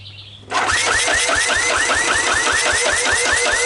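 A Honda ATC125 ATV engine catches after a brief quiet moment and settles into a loud, steady, rapidly pulsing idle close by, with no talk.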